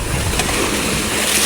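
A small fishing outrigger boat pushes across the open sea in rainy weather, with a steady broadband rush of hull, water and wind. The sound is continuous and loud, with no voices.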